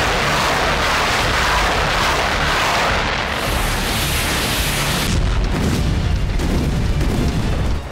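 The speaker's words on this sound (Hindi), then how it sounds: "पहले रूसी आर्टिलरी के शेल का धमाका हुआ और पहली चिंगारी के साथ फट पड़ा कई टन बारूद।" A loud, sustained roar of an artillery shell explosion setting off several tons of ammunition, rumbling heavily and continuously with a renewed surge of blast noise partway through.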